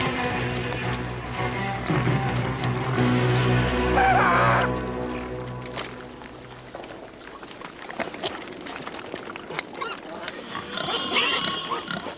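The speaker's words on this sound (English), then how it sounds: "Pigs." Pigs grunting and squealing, loud close snorts building to a peak before giving way to scattered grunts and rustling movement.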